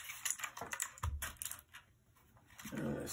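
Keys clack on a VictSing TKL mechanical gaming keyboard with a metal rim, with close, crisp keystrokes in quick bursts, a short lull, then a soft rustle.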